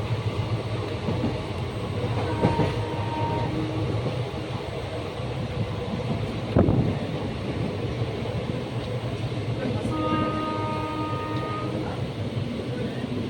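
Maa Tara Express, train 13188, a passenger train heading toward Sealdah, running with a steady continuous rumble and rattle for the whole stretch, with faint tonal squeals and one brief louder clank partway through.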